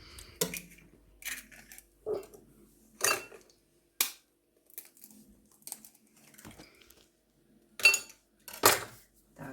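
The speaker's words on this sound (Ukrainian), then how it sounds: "Так, збиваємо яйця." Eggs are whisked in a bowl for Viennese waffles, giving irregular sharp clinks and scrapes of a utensil against the bowl. The clinks are close and come in sparse bursts with quiet gaps between them.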